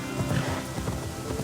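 A horse gallops in Assassin's Creed Valhalla, a rapid, continuous run of hoofbeats heard close over a busy game soundscape.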